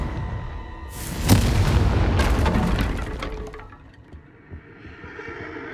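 Confringo fire spell explosion in the Hogwarts Legacy video game: a sharp crack into a loud booming blast with crackling debris that fades over a few seconds.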